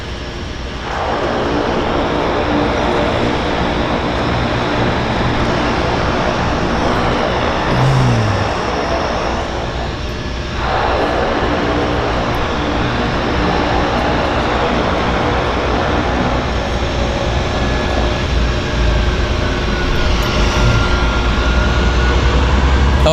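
A Twin Otter propeller plane takes off from Vancouver Harbour, its loud, close engine roar building quickly and holding steady with propeller buzz, a brief dip partway through, then swelling again toward the end.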